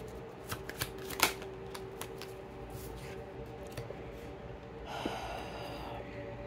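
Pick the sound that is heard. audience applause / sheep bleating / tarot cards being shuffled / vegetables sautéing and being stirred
tarot cards being shuffled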